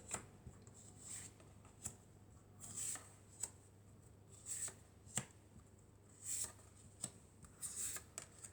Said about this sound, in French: on va prendre plusieurs cartes